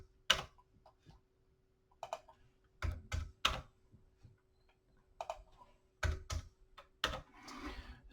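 Isolated presses of the backspace key on a computer keyboard, a handful of crisp, close clicks spaced apart in a quiet room, with no voice.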